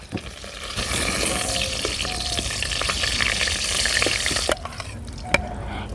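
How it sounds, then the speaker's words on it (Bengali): A dried red chili and a bay leaf sizzle in hot mustard oil in a pan, a loud continuous frying crackle with a few stirring clinks near the end and no speech. "ফোড়নের জন্য সর্ষের তেল ফোড়নে দিয়ে দেব একটা শুকনো লঙ্কা আর একটা তেজপাতা"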